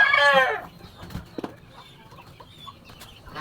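A bulky Cornish chicken in a small backyard coop gives a loud harmonic squawk-cluck, followed by a few short soft clucks and quieter scratching sounds nearby.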